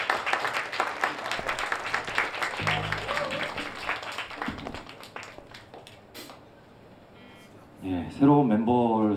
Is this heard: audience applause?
yes